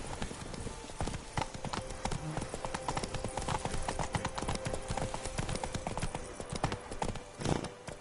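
Steady clip-clop of horse hooves from Witcher 3: Blood and Wine, a brisk regular trotting rhythm close by with faint creaks and a brief snort near the end, no talk.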